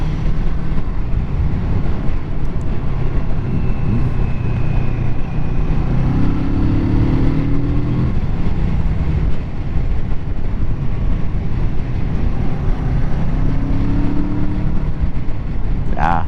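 A Kawasaki Z650 motorcycle on back roads, with a continuous low engine drone and wind rush that holds steady for the whole stretch.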